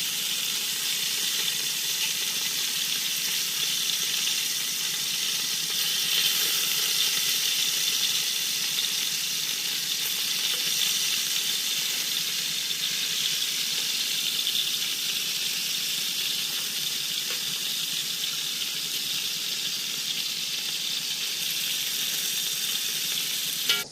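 Meat for lasagna searing in a hot pan, giving a steady, close sizzle and spitting hiss that holds level from start to finish with no talking.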